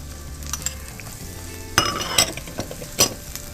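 Sliced onions and ginger sizzle and fry in a pan, with a steady hiss broken by a few scraping stirs and utensil clinks close by.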